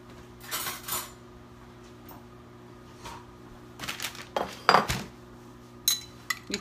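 Spoon and dishes clinking in a home kitchen while spaghetti squash is prepared with olives; several scattered metallic clinks and taps, close and moderately loud, with quiet gaps between them.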